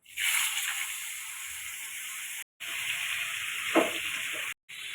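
Radhuni seeds for shukto hit hot oil with a loud, bright sizzle that hisses steadily, briefly cutting out twice, with a soft stirring clatter near the end.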